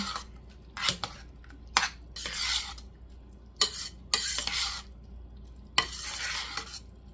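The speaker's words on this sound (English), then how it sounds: "We got some saffron. Let's give this a good stir." Coconut rice with saffron being stirred in a pot, with several separate bursts of scraping and shuffling close by, each lasting about a second, separated by quiet pauses.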